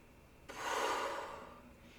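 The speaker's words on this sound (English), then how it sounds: "exhale." A single soft, breathy exhale during a breathing exercise, rising quickly and fading away over about a second in a quiet room.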